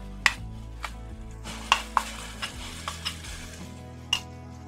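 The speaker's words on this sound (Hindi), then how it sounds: "अब इसमें सारे मसाले डाल देंगे" Whole spices dropped into two to three tablespoons of hot oil for a restaurant-style base gravy, giving a steady close sizzle broken by several sharp clinks and stirring scrapes.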